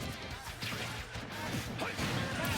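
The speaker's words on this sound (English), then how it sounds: "here's the F smashes. They're back." Heavy forward smash attacks landing in a Super Smash Bros match at an offline UK regional tournament, with several sharp crunching impacts and swishes packed together over loud, busy game sound and crowd noise.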